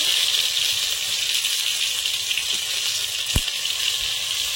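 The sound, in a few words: frying ground mustard paste in oil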